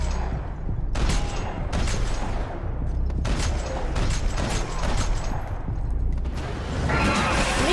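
Gunfire from the video game Max Payne 3, a steady rattle of repeated shots across a busy firefight, loud and close over constant background rumble, with no talk.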